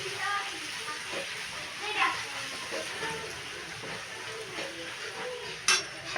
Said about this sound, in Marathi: आता खोबरं टाकते, खोबरं बी छान तळून घ्यायचं